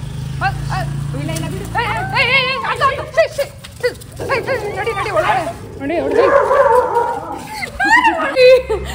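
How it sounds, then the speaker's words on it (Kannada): Several dogs bark and yelp excitedly in bursts, some whining, while people talk over them and an engine drones at the start. "ಅಕ್ಕ ಇಲ್ಲೊಂದು ನಾಯಿ ಬರ್ತೈತೆ"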